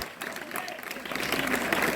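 Children clapping at a school science-day magic show, a dense burst of applause that builds and grows louder toward the end, with voices mixed in.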